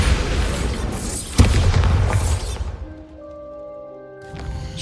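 A Bombarda blasting spell exploding in the video game Hogwarts Legacy, a loud deep boom with a sharp crack and rumbling debris that fades, followed by soft sustained musical tones.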